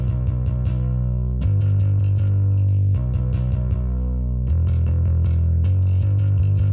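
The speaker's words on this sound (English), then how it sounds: "I played the bass on MIDI and I have a plugin playing the bass for me." Gritty, heavily distorted synth bass from a MIDI plugin in Ableton Live plays a repeating riff on its own, deep and thick with a buzzing edge, notes changing every second or so.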